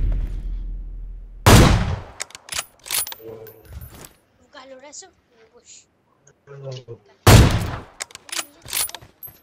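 Two loud, sharp gunshots in the PUBG Mobile video game ring out several seconds apart, with excited talking and small mechanical clicks between them.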